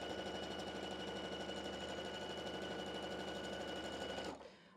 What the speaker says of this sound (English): I like chain piecing.